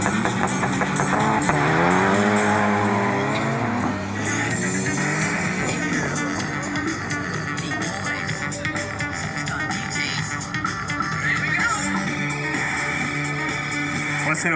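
A 2-litre turbo Mitsubishi Lancer Evo 8 rated at 360 horsepower and a 1.7 turbo Volkswagen Golf rated at 200 horsepower are drag racing. Engines rev hard with rising pitch sweeps through the gears, loud and continuous throughout, with a faint voice underneath.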